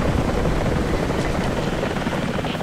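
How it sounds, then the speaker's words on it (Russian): A helicopter in the video game Rise of the Tomb Raider thunders continuously with a loud, close rotor chop and engine roar, with no speech over it. "Вертолет вроде бы меня не видит."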